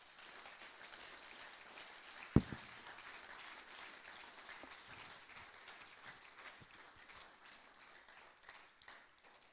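A church congregation applauding, a steady patter of many hands clapping at a moderate distance, with one sharp knock partway through and faint voices mixed in.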